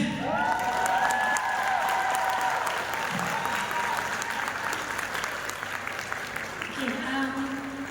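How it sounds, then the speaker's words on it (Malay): Applause from an audience in a hall, a continuous patter of clapping throughout, with a voice speaking over it near the start and again at the end. "boleh tak berikan tepukan kepada saya?"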